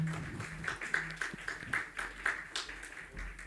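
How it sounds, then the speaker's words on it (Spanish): An audience applauds the speakers at a national history congress in Bolivia: a faint, steady patter of many hands clapping that keeps going without a break across the clip. "Los despedimos con un fuerte aplauso."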